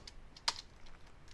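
A single quick burst of keyboard typing as a keyword is entered into a search field, faint and close, one short cluster of keystrokes with quiet room tone around it.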